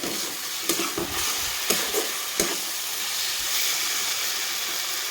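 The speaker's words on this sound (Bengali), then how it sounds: "ভালোভাবে মশলাটাকে কষে নেব" Spice masala sautéed in a pan for a potato and egg curry, a continuous close sizzle broken by a few sharp scrapes of a stirring spoon.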